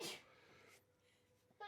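A single short sneeze bursts out at the start, followed by quiet room noise and a faint breathy sound at the end.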